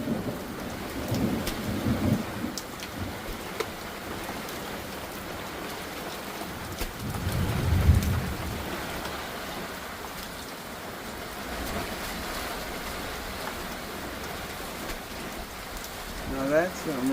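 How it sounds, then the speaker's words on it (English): Heavy monsoon rain falling steadily on surfaces, with low thunder rumbling in the background and a louder roll near the middle. "Now that's some rain."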